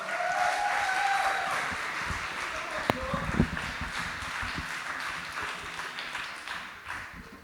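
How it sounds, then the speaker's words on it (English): Audience applause at a live London Electric Blues show at The Tabernacle, greeting performer John Collins; a steady wash of clapping fills the room at moderate level and slowly thins out toward the end. "Are you going to give a big, big round of applause to Mr."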